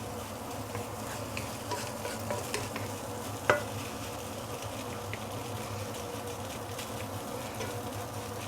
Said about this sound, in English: you want to keep on pressing the rice so that it becomes individual rice grain